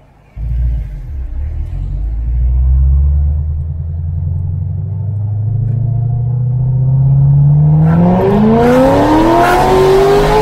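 A high-mileage Corvette C6 ZR1 supercharged V8 drives under load with a deep, steady engine rumble that climbs in pitch as it accelerates hard toward the end, loud and close throughout with no talk.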